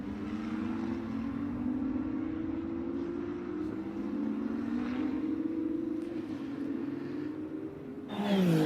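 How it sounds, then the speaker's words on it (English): A Ferrari 499P Modificata twin-turbo V6 race car engine drones steadily at a distance on a track, its pitch slowly shifting, then a sharp rising whine as it passes close near the end. "So that lovely noise you can hear down the straight, that is the twin-turbo V6."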